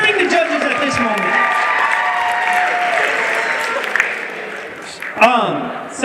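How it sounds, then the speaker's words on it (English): A crowd at a 9th grade poetry slam applauds and cheers for the judges, a dense wash of clapping and shouting that gradually fades as a voice comes in near the end. "Yes, give it up. We're cheering the judges"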